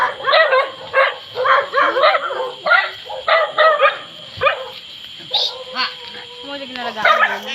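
Several dogs bark in short, repeated bursts close by at a home being visited, with a person talking over and between the barks.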